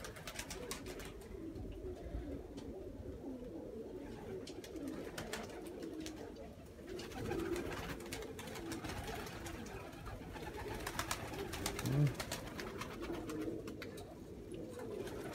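Pigeons cooing on a rooftop on a hot day, soft repeated coos at moderate distance over a faint outdoor background, with occasional louder calls.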